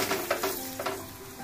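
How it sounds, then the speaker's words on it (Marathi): Dough slid into hot oil sizzles and crackles close by in a short burst, with bubbling pops fading slightly toward the end. "आता जी या साईडची खाली कणिक होती ती साईड तेलाकडे सोडायची आहे"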